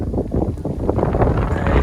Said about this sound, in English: Now there's a lot of wind up here, so I'll speak loudly.